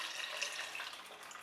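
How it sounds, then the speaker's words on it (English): Water pours steadily into a pot of jollof rice with chicken and vegetables, a soft, continuous splashing stream heard close and fairly quiet. "add in some more water."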